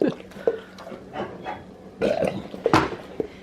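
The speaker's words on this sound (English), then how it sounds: "You burping on her, Piggy?" A Great Dane lets out several low, guttural burps in irregular bursts, close and fairly loud, mixed with snuffling and mouth sounds indoors.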